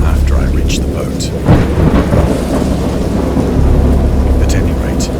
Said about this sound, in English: I know that I heard pearls of thunder and other tones which nature utters only in her wildest notes.